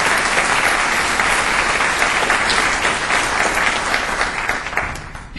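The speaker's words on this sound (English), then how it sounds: "we should just offer every faculty member here a round of applause for that" An award-ceremony audience gives faculty members a loud, sustained round of applause, dense clapping filling the hall from start to finish.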